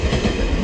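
A panda-themed train in Wakayama, Japan rumbles past close by a restaurant, a steady loud roar of wheels and carriages with faint rhythmic clatter and no voices.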